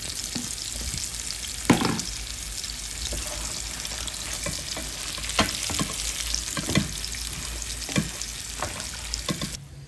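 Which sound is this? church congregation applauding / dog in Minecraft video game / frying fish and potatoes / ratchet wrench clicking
frying fish and potatoes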